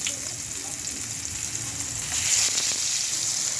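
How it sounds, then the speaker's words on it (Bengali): Tomato and eggplant pieces, coated in chili powder, salt and turmeric, fry gently in hot oil, giving a steady close hiss and crackle that swells slightly near the end, with no voices. "টমেটো আর বেগুন ভাজা হোক আস্তে আস্তে।"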